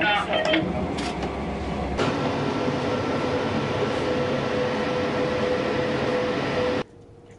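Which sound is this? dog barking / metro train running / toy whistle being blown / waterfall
metro train running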